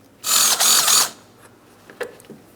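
A power ratchet or drill backing out a 10mm bolt from the front bumper cover of a 2008-2016 Chrysler Town & Country minivan, one loud buzzing whir of about a second, then a few faint metallic clicks.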